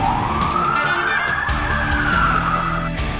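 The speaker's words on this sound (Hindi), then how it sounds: "तभी उसे पीछे से पुलिस का सायरन सुनाई देता है।" A police car siren wails loudly and steadily close by on a road, a rising and falling tone that runs the whole time over the rumble of a moving car, with no voices.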